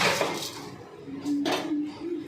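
Fennel and cumin seeds stirred in a karai for mango pickle with jaggery, giving soft scraping and clinking of a spoon against the pan, steady and close, with faint sizzling.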